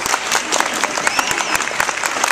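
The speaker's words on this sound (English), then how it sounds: "Definitely deserves applause." An audience at a convention panel breaks into applause, a dense, lively patter of many hands clapping close and loud for a couple of seconds.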